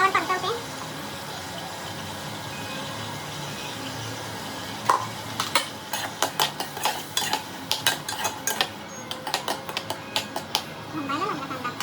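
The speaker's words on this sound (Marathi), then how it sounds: "ती थोडीशी तेलावर परतवते." Onion with onion-tomato paste sautés in oil in a pan, a soft sizzle underneath while a spoon scrapes and stirs in quick irregular strokes through the second half, close by, with a voice talking faintly.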